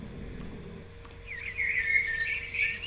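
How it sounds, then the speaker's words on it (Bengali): A spring birdsong sound effect: a bright, warbling chirp sequence swells in over the second half, preceded by a low rumbling hum, with no voices. "এটা বসন্তকালে যেরকম পাখি ডাকে ওরকম"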